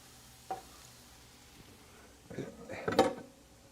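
Garlic hitting a hot pan in a home kitchen during meal prep gives a quiet, brief sizzle with a clatter of utensil against pan, close by and low in level.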